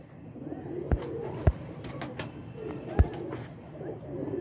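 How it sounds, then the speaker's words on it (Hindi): Large pigeons cooing softly in a breeder's loft, low throaty coos under a few sharp knocks and rustles, with someone talking nearby. "ये बड़ा कबूतर है जी दोस्तों"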